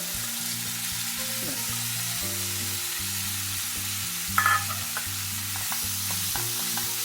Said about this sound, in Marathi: यामध्येच खवा भाजून घेते अगदी थोडंसं एक चमचा तूप घालते